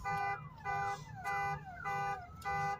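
A truck's car alarm sounding nearby, its electronic siren sweeping downward in repeated cycles of about four pulses, steady and fairly loud, with no talk over it.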